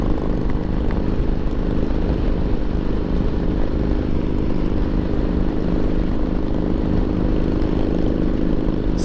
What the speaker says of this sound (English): There goes my man rolling on his Harley.